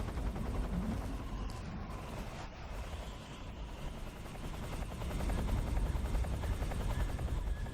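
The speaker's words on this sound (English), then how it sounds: "Is that chopper moving yet?" A helicopter in the video game Metal Gear Solid 3: Snake Eater, its rotor chopping steadily as a dense, continuous throb that swells slightly louder toward the end, with no speech.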